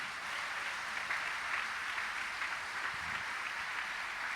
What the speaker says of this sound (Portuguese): Você vai aplaudir, aplauda forte.